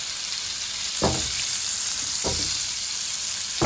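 Steak frying in a pan, a steady close sizzle running throughout with a few brief louder bursts of spitting fat, no voices.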